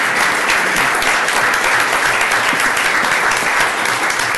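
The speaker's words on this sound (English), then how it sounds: "I want to give them a round of applause" Applause for court staff at a county commissioners court meeting, a room full of people clapping steadily and evenly for several seconds without speech over it.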